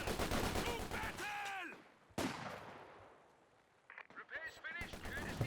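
Mortar and gunfire in the video game Company of Heroes 2, sharp bursts and a heavy blast around the middle, with a long decaying rumble and a voice talking over parts of it.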